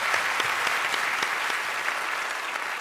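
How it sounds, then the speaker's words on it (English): School choristers applaud at a choir competition semi-final, giving a steady round of clapping with a few sharper individual claps standing out, moderately loud and unbroken by voices. "Applause from your own choristers."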